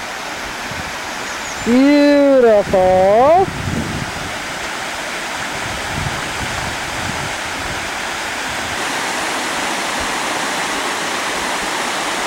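Silver River Falls pours in a constant, full rushing roar that fills the whole clip. Someone speaks briefly near the start.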